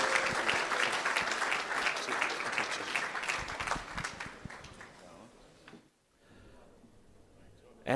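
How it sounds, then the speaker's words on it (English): A crowd at a football and netball league medal night applauds the dual Chandler medallists, full clapping that tapers off toward the end with some voices mixed in. "A big round of applause for our dual Sir Gilbert Chandler medalist, Josh Toby from East Ringwood and Toby Wooler from Blackburn."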